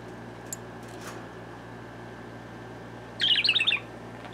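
A pet bird gives a brief flurry of bright chirps near the end, close and fairly loud, after a few faint taps over a steady background hum.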